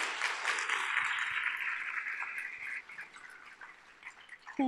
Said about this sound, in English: Another round of applause for Sophie.